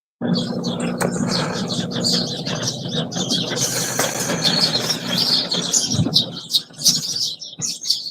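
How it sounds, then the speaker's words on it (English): Birds chirp and tweet against a steady wash of outdoor noise, with a few brief sharper calls standing out near the end. "Even the birds saying it's too cold outside."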